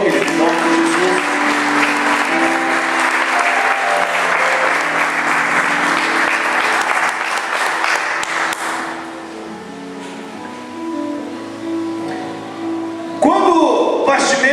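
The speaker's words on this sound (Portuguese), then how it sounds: "Dá aplauso ao Senhor, querido, em nome de Jesus." Church congregation applauding during a Portuguese-language sermon, dense steady clapping for several seconds that fades out, then a short burst of noise near the end.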